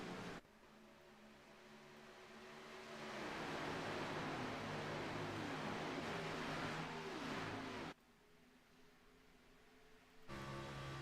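A race car engine in a NASCAR Xfinity sim racing game at Charlotte, a sustained high revving whine that rises and holds, drops off abruptly, then returns, with no talk over it.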